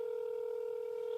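A telephone keypad gives a single steady dialing tone, faint and continuous, with no other sounds.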